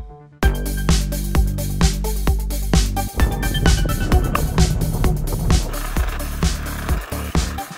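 A Varla Eagle One V2 electric scooter is ridden outdoors, with a loud, close hum under a steady run of sharp rhythmic thumps and rattles as the wheels roll over the ground.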